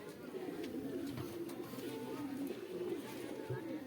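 A pigeon coos in low, rolling phrases, close and continuous, with faint outdoor background under it.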